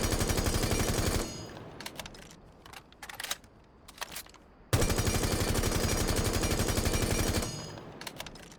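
A rifle emptying a full magazine in the video game Rainbow Six Siege: two long, loud, continuous bursts of automatic fire, broken by a short gap of scattered single shots and mechanical clicks.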